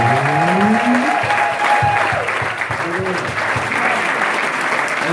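A congregation at a church service claps loudly and steadily throughout, with crowd voices and tonal sounds from the gathering mixed in under the applause.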